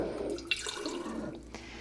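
Filtered water poured into a container for making the sugar water base for water kefir, a brief, soft trickling splash close by with no talking.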